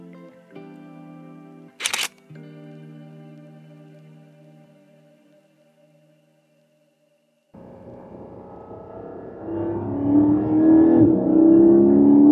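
A Porsche Cayman GT4 engine at an outdoor car photo shoot. After a sharp camera shutter click and a silent gap, it barks into life and revs hard, rising to a loud, high, close wail near the end.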